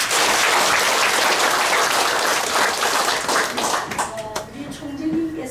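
An audience at a founding ceremony of a war victims' association claps loudly and densely, the applause thinning toward the end as voices emerge.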